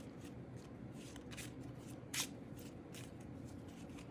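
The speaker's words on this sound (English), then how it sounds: "So then what you can do is you can shuffle the rest of the deck." A deck of game cards for a Napoleonic board game is shuffled up close in several quick riffling bursts, with one louder snap near the middle, quiet and without talk.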